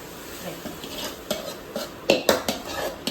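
Food being turned and stirred in a pan while cooking kappa biryani, heard as a series of close, distinct metal utensil scrapes and clinks against the pan, with no voice.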